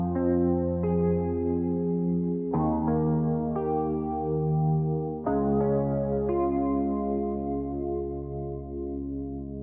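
Dreamy sustained guitar chords change every few seconds, washed in chorus, RC20 texture and heavy reverb with a low pass filter dulling the top end. The chords are played alone in a trap-style beat production.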